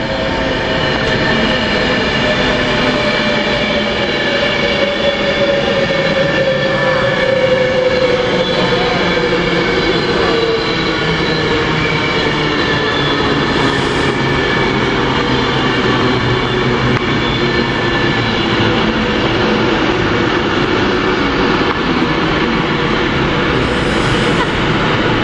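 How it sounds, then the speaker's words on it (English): A train at Rugby station bound for Wolverhampton rumbles steadily alongside, loud and continuous, with wheel and motor tones sustained throughout and faint squeals rising over the noise. "That's a train going to Wolverhampton"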